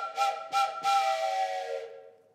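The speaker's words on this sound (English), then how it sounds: "I have a little train whistle here." A toy train whistle gives three breathy chord toots, two short and one long, the last fading out, played close and alone.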